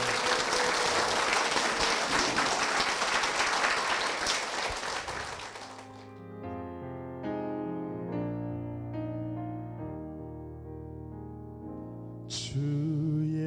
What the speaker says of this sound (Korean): 힘찬 축복의 박수 부탁드릴게요.